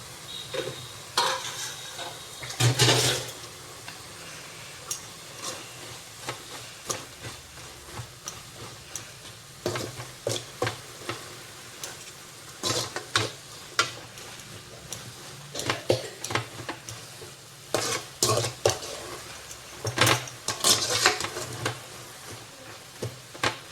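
Coriander leaves and tamarind sauté in a pan for coriander chutney, with intermittent bursts of stirring and scraping over a soft steady sizzle.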